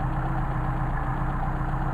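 A Mercedes 190SL engine idling on Solex carburetors, a steady, even low rumble held close and constant with no speech.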